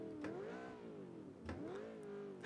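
Randomised supercar from the game Automation, revving through its full exhaust in a couple of rising and falling sweeps, loud and close, with no talk over it.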